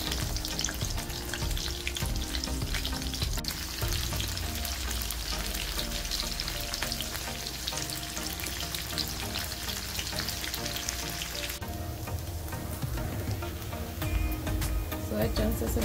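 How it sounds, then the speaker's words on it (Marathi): Soya chunks fry in hot oil over a medium-low flame, a dense, steady crackling sizzle with occasional louder pops and scraping stirs, continuous for the whole stretch. "Medium to low फ्लेमवर soya chunks तळून घ्यायचे आहेत, दोन्ही साइडने गोल्डन ब्राउन होईपर्यंत।"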